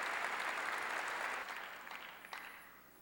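A church congregation applauds steadily during a sermon, a dense wash of clapping that gradually thins and fades toward the end.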